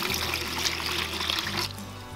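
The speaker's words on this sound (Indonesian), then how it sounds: "Ini kita kasih air, kemudian kita larutkan dan kita rendam sebentar." Water pours into a container to soak a Philodendron martianum with rooting stimulant, a close, continuous splashing trickle over a low hum that drops away near the end, with no talking.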